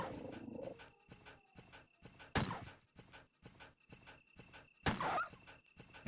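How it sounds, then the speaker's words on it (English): A hostile dog in the Resident Evil video game gives repeated snarling, growling bursts, loud and harsh, separated by quieter gaps with faint game noises between them. "I don't want to run over there to the dog."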